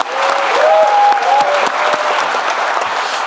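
A crowd at a presidential town hall meeting in Jeonbuk applauds loudly and steadily, dense clapping with a few cheering voices rising through it for the full stretch.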